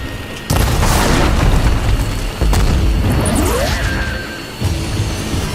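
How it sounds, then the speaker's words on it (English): In Horizon Forbidden West, a Ravager cannon fires heavy booming blasts with whooshing, crashing impacts, loud and dense, with a few sharp bursts cutting through a continuous rumble. "That is a Ravager cannon."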